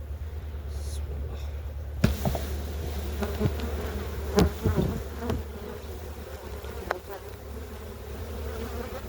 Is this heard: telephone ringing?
no